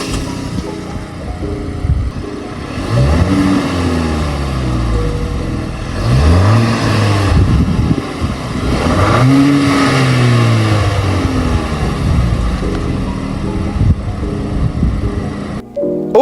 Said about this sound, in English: this is how your Omoda C9 will sound